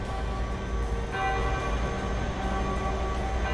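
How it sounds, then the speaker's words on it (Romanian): Village church bells tolling for a death, heard as a steady, sustained metallic ringing that hangs over a low rumbling background. "Tu auzi că aici trag clopotele?"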